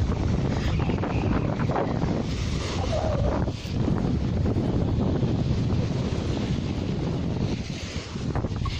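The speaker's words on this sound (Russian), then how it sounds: "Ветер сильный, но он такой просто приятный нет жары" Strong wind roars continuously across the microphone on a Crimean beach at Steregushchee, with a broad rushing hiss, likely with surf washing in the background, no voices.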